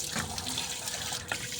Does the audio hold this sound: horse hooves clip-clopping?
no